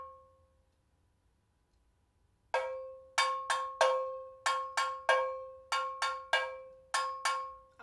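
Bongo bell pattern on a cowbell: after a lone faint strike and a pause, crisp metallic hits alternate between two pitches in a steady repeating rhythm, close and clear.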